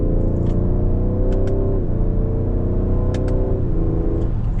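A 2021 Ford Explorer ST engine heard from inside the cabin, loud and steady, with its pitch dropping and then climbing again through two manual downshifts.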